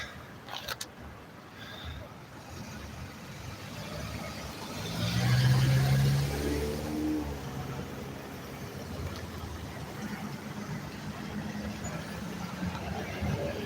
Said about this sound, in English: I got to wait on these cars over here.